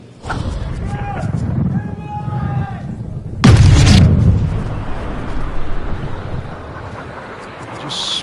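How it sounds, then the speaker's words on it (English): Golf club striking the ball off the tee in the PGA Tour video game at Bay Hill's 18th hole: one loud, booming crack partway through, over a steady wind-like ambience. "Frank, did you hear the sound of that coming off the club face? It was like a cannon."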